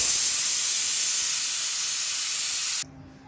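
A pressure cooker whistle releasing a loud, steady hiss of steam while milk-and-ghee pulao cooks inside, cutting off abruptly near the end and leaving a quieter room tone.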